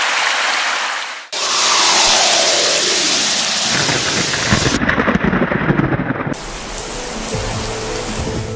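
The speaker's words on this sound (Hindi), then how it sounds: "बारिश की भीगी भीगी बौछारें लगभग पूरे देश में हो रही है" Heavy rain pours steadily, joined by a long rolling rumble of thunder, loud and close throughout, with the downpour shifting in intensity across several cuts.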